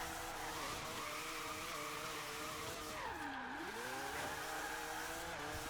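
A Mazda RX-7 FC3S with a four-rotor drift build, driven in Forza Horizon 3, gives a steady, loud rotary engine drone that dips briefly in pitch midway and then climbs again, with a hint of tire squeal.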